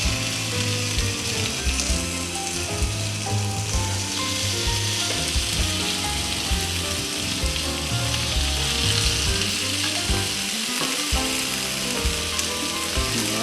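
Pieces of beef fillet sear in a hot grill pan with a loud, dense, unbroken sizzle that holds its hiss at full strength throughout.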